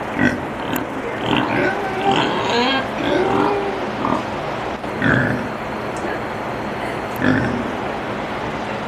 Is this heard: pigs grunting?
yes